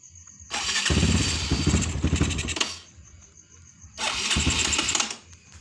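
A Kawasaki KLX 150 motorcycle engine cranks and roars to life in two loud bursts, each running about two seconds before cutting out.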